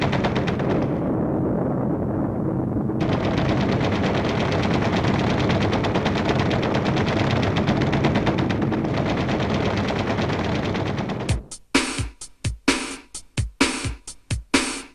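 Dense continuous roar of rapid machine-gun fire from a B-25 Mitchell aircraft's guns, then a series of sharp separate bursts near the end, loud and close.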